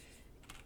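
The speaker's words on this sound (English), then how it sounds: "let me finish typing it out." Keystrokes on a computer keyboard while coding a JavaScript Pong game, a brief quiet patter of clicks with one sharper tap near the end, close and faint.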